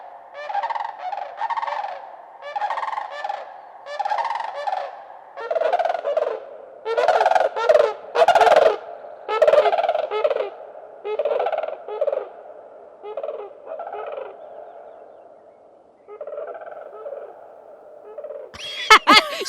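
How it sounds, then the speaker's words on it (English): Sandhill cranes call loudly in repeated rolling, rattling bursts, several birds overlapping, with a short sharp noise at the very end. "sandhill cranes make an incredibly prehistoric sound"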